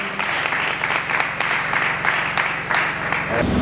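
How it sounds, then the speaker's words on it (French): An audience applauds during a French ambassador's visit to Kongo Central: a steady, dense crackle of many hands clapping fills the whole stretch at moderate loudness, over a low background hum. "Est-ce qu'on peut encore applaudir, s'il vous plaît?"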